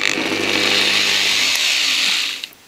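A regreased angle grinder runs with a steady, loud high-pitched whine. A lower hum fades partway through, and the motor winds down near the end.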